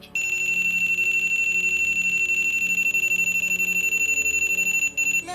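A non-contact voltage detector sounding its alarm, a loud, continuous, rapidly pulsing high-pitched beep that runs for about five seconds before cutting off abruptly.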